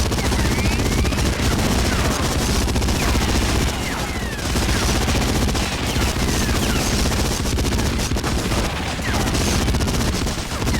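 Sustained machine-gun fire in the World War II shooter Medal of Honor: Frontline on PS2 rattles in dense, rapid bursts, loud and close, with only brief pauses between long volleys.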